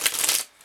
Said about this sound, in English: I love this deck, and it's so easy to shuffle